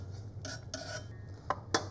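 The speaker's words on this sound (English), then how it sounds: "And just stir that in." A utensil scrapes and clinks against a pan in a few short strokes while cold butter is stirred into a sauce, with sharper metallic taps near the end, over a low kitchen hum.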